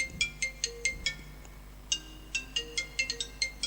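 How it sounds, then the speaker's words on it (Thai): Phone ringtone for an incoming call, a repeating electronic melody of quick bright tones in regular bursts, with a short gap before the pattern starts again, fairly clear over a quiet background. "โทรศัพท์เข้ามา"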